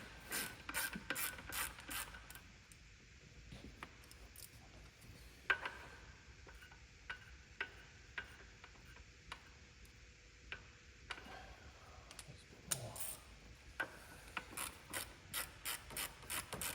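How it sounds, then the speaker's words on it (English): Ratchet with a 12mm socket loosening the intercooler bolts on a Subaru Impreza, heard as bursts of fast, close clicking separated by quieter pauses, with no talking. "I'm just going to loosen the bolts either side of the intercooler. This is a 12mm socket."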